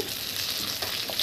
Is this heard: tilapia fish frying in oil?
yes